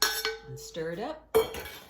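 Kale and cooked quinoa salad being stirred in a bowl with a utensil, a few clinks and scrapes with short ringing tones.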